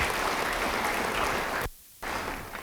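A church congregation applauds during a sermon, a dense, steady wash of clapping that cuts out abruptly for a moment of near silence before resuming.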